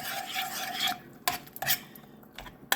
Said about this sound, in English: All right, we're gonna stir all that in.